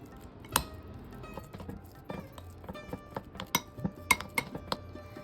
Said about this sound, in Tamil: வேக வச்ச கிழங்கை ஒரு கிண்ணத்தில் எடுத்து வச்சுருக்கேன். இப்போ இதை வந்து நல்லா மசிச்சு விட்டுக்கலாம்